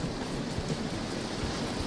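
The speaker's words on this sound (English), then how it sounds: "when it rains here, it properly chucks it down" Heavy rain pours down on Australia's Central Coast as a dense, steady roar of broadband hiss, loud and unbroken throughout.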